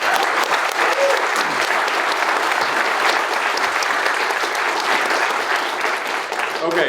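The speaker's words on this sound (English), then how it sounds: "let's give Representative Skaug a round of applause" An audience applauds at a political event in Idaho, producing dense, sustained clapping that holds steady for several seconds with some murmur of voices mixed in.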